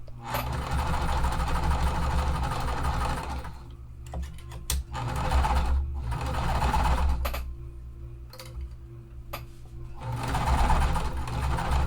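A sewing machine stitches quilt pieces in several close, steady runs of rapid mechanical whirring, broken by short pauses with soft clicks and fabric handling between bursts.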